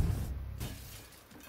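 A glass block shatters in the Garry's Mod Minecraft addon, a single brief crash near the start followed by a fading rumble, loud and close with no talking.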